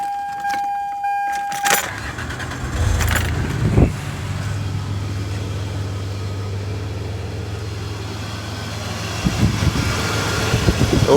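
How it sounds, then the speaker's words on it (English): Keys jangle and clack near a Toyota 4Runner before the ignition is switched on and the engine starts, then a steady low idle hum settles in alone, with a few light clicks and rustles toward the end. "So let me go flip the ignition on."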